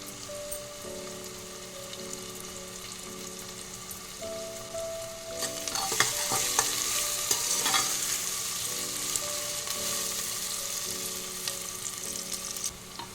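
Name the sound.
onions frying in a pan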